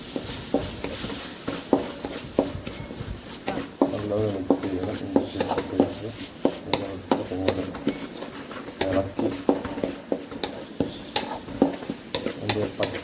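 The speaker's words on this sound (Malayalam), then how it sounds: "ഇതിട്ട് കൊടുത്തിട്ട് നല്ലപോലെ ഒന്ന് അതിൻ്റെ പച്ചമണം മാറുന്നിടം വരെ നല്ലപോലെ ഒന്ന് ഇളക്കി കൊടുക്കണം." Ginger garlic chili paste being stirred in a pan for beef curry, with repeated scraping clicks of a spoon against metal and a low sizzle underneath, while a voice talks over the stirring.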